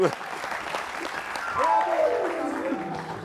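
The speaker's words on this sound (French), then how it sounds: "Applaudissez pour le frère." A studio audience at a live entertainment show applauds a young man heading back to his seat, broad continuous clapping with voices talking and calling out over it.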